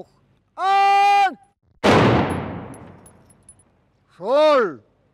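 A loud, booming ceremonial rifle salvo rings out and echoes away in Austria's Puster Valley, framed by long sustained shouted German commands before and after.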